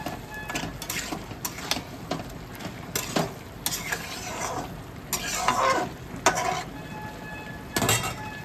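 Chicken curry with a little mustard oil is stirred in a pan, with irregular scraping strokes of a utensil against metal and a soft background sizzle running throughout.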